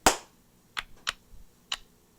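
Sharp hand claps in a quiet room: one loud clap, then three lighter claps in an uneven beat, with no talking.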